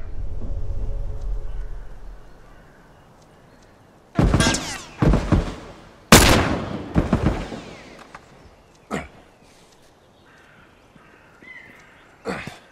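Sharp gunshots ring out in a video game, spaced across a bow game played at a bus depot: a few loud, abrupt bangs with gaps between them, some closer and louder than others, over quiet background noise.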